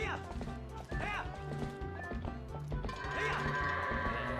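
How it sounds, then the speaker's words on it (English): Goat hooves clatter in a quick clip-clop rhythm in a Zelda video game, layered over bright game music with bleating-like tones while a person talks over it. "Now listen here, you little goat. Why are you running that way?"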